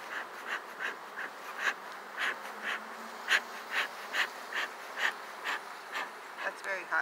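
Honeybees buzz around a hive during an inspection, a steady drone with individual bees passing close in pulsing swells.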